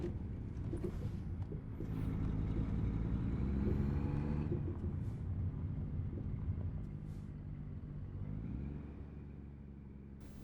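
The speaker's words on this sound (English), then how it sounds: "You drive around in a truck." An American Truck Simulator rig rolls down the road with a steady, deep engine rumble. The drone swells slightly as the truck speeds up, then dips and settles as it shifts gears, with no voices over it.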